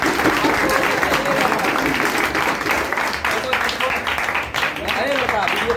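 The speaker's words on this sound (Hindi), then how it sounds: "आइए मोहन जी, सबसे ताली बजे, ताली बजे।" An audience at an honour ceremony claps steadily in a continuous, dense roar of applause that stays loud and close throughout, with voices mixed in underneath.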